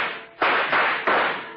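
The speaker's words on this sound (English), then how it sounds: "Gunfire cut loose at the back of the building." Radio drama gunfire effect, a quick series of about three loud, sharp bursts roughly a third of a second apart, each cracking on and then tailing off in a short echo.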